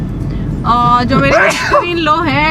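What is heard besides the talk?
sneeze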